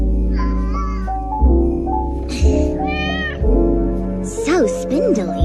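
A cat in a dubbed episode of the Chainsaw Man anime meows several times, with drawn-out and rising calls mixed in among voices speaking in the scene.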